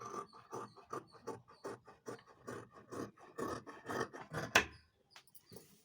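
Scissors cut through folded blouse fabric in a steady run of short rasping snips, close up and fairly quiet, ending with a sharper clack.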